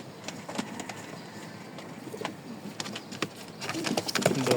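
Rajshahi Giribaz pigeons in a home loft give faint, soft coos amid scattered light clicks and shuffling, with a slightly louder cooing burst near the end.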